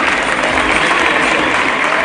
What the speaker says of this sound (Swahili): Wapi makofi na makelele for His Excellency, wapi makofi